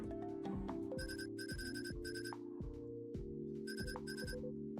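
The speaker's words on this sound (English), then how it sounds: "Oh my gosh, everyone's got the same ringtone." A phone ringtone in the video game Coffee Talk Tokyo plays a repeating electronic melody of bright chiming pulses over a steady bass pattern, heard alone and fairly quiet.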